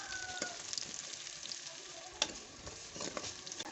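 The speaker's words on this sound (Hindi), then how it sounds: "वो तकरीबन 3 से 4 मिनट तक भूनेंगे ताकि मसाले अच्छी तरह से पक जाएं" Onions with a ginger-garlic and green chili spice paste sizzle steadily in hot oil for a potato curry, a soft constant frying hiss with occasional stirring scrapes.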